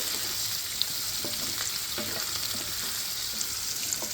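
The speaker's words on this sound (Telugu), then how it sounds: "ఇప్పుడు కొద్దిగా పసుపు వేసుకుని లైట్ బ్రౌన్ కలర్ వచ్చేదాకా ఇలాగ ఫ్రై చేసుకోవాలి" Baby potatoes tossed with turmeric fry in a pan, giving a steady, close sizzling hiss throughout with a few faint stirring clicks and no voices.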